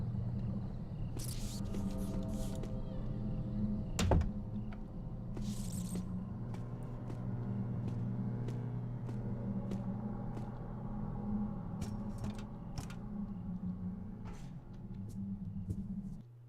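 Lockpicking a three-stage lock in Thief: Deadly Shadows, heard as faint clicks and small metallic ticks scattered over a low steady rumble, with one sharper snap partway through.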